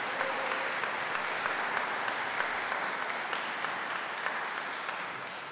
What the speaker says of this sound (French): On a le droit d'applaudir tous ceux qui sont sur scène.